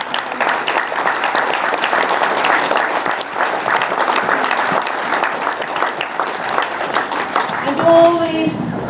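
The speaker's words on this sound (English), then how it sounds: "let's give those mums and dads a clap" At a school event, an audience claps for the parents with sustained, dense applause that stays fairly loud and even for several seconds, then a voice cuts in over the clapping near the end.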